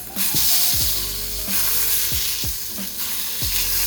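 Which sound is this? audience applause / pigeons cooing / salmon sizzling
salmon sizzling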